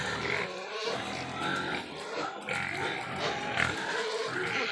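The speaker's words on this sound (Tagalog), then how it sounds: "Nag-aarapis ng baboy." Pigs oink and grunt close by in a farm setting, several animals producing overlapping, continuous snorting grunts and squeals throughout.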